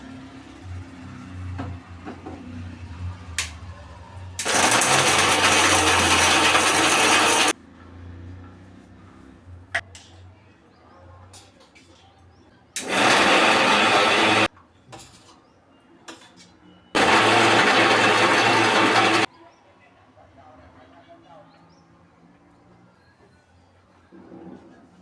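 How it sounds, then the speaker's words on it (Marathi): A mixer grinder grinds fried masala into a smooth paste, running in three loud, steady whirring bursts of a few seconds each, separated by quiet gaps with small kitchen clatter. "आता मी हे सगळा मसाला ना एक एक करून जारमध्ये टाकून वाटून घेणार आहे"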